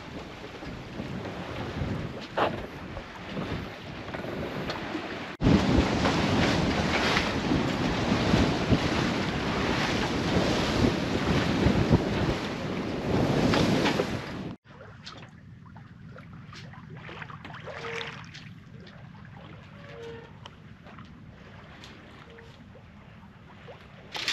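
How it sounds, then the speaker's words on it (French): A sailboat under way in very light wind in the Ionian Sea, with steady wind buffeting the microphone, water rushing and lapping against the hull, louder in the middle stretch then quieter with faint creaks. "on navigue ici dans des conditions dantesques avec 4 nœuds de vent"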